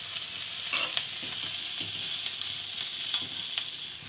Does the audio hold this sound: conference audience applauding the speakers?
no